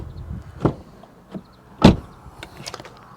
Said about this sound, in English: let's just listen to the door handle action